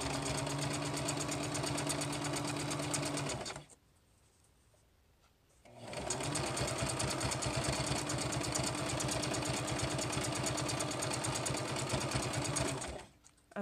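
A sewing machine rattles quickly and evenly while stitching a placemat rat hammock with a stretch needle, with a pause of about two seconds between two long runs.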